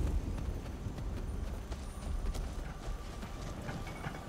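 A horse in the video game Skyrim, modded as Elysium Remastered, clops its hooves in a steady run of soft, repeated thuds, with faint mechanical clicks and no talking.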